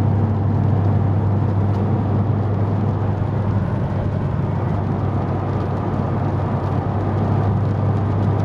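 A 2003 Mercedes W211 E55 AMG pulls hard from inside the cabin, a loud, constant low engine roar with road rumble throughout.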